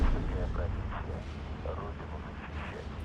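Artillery shells from the World War II strategy game Steel Division 2 thud and rumble in a string of muffled impacts, heavy low booms running under a talking voice.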